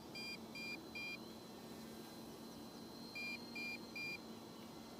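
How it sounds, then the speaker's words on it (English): An MJX Bugs B2W quadcopter sounds its low battery warning: two sets of three short, even, high-pitched beeps, with a pause between the sets, over steady motor hiss and a low hum. "low battery warning alarm"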